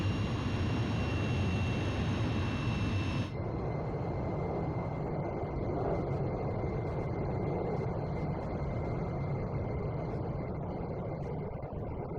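A jet aircraft takes off in the Ace Combat Zero video game, its engines producing a steady, loud roar that shifts tone after a few seconds and then holds as a constant rushing drone.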